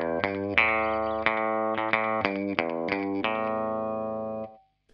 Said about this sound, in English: the main riff you can hear, which is probably the most pronounced, it's one guitar line